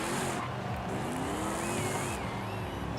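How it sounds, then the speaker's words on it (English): A 2024 Mustang GT in Forza Horizon 5, fitted with a 6.8L twin-turbo V8 diesel drag tune, roars loudly and continuously with rising and falling engine pitch, amid tire noise and a constant dense rumble. "diesel engine in this. Let's get these tires hot real quick."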